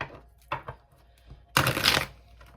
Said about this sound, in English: If I can shuffle this deck